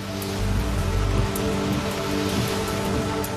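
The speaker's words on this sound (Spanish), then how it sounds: "Lluvias torrenciales caen sobre la ciudad más grande de Brasil." Torrential rain pours over São Paulo, Brazil's largest city, a steady dense wash of water on city surfaces with a low rumble beneath, continuous and fairly loud throughout.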